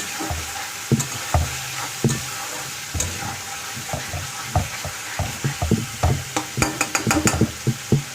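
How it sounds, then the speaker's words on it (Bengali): Spices being fried down in oil in a pan, with a steady sizzle under repeated scraping stir strokes that grow quicker and more clustered toward the end. "দেখুন ধীরে ধীরে মশলার গা থেকে তেল ছেড়ে আসছে, মশলাও প্রায় কষানো শেষের মাথায়।"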